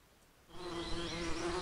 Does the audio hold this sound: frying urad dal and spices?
no